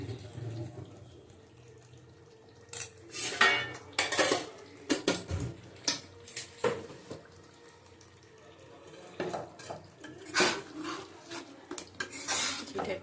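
Chicken chaap in garam masala being stirred in a pan: a spoon scrapes and clinks against the metal in irregular bursts, with quieter stretches between, fairly close and alone.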